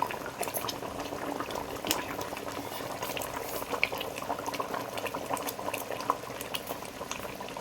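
Shilava fish curry bubbling steadily in a pan, a dense, even simmer with soft scattered pops and occasional faint scrapes of stirring, with no voices.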